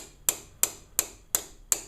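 A small hammer taps a pin into the ferrule of a bamboo fishing rod: five crisp, evenly spaced metallic taps, close and clear with no talking.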